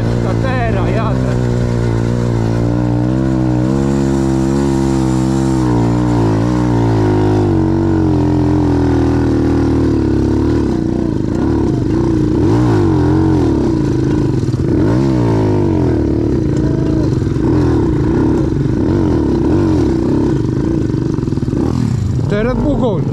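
A motorcycle engine revs loudly and close up for a long stretch, its pitch climbing and falling through repeated throttle blips, with clattering and a voice mixed in.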